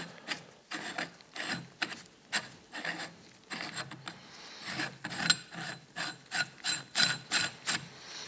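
Large castle nut on a 1972 Dodge Challenger steering box, spun on by hand: a steady series of short metallic rasping, ratcheting clicks, close and clear, alone with no talk.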